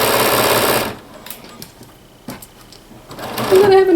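A domestic sewing machine stitches a curved princess seam on a blouse in one loud, steady run of needle chatter, then cuts off into quiet handling noise before a short burst starts again.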